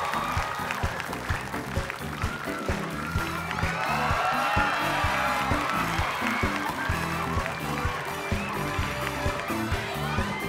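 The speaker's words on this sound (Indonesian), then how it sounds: "Tepuk tangan untuk Ari Tulang." Studio audience applauding on the Indonesian comedy variety show Opera Van Java, a dense, steady wash of clapping with some cheering and crowd noise running throughout at close, even loudness.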